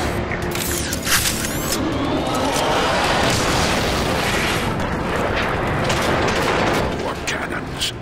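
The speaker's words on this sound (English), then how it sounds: "More cannons." Dense roar of repeated cannon fire and explosions in the game Transformers: Fall of Cybertron, loud and continuous throughout, with sharp booming impacts layered over a rumbling battle din.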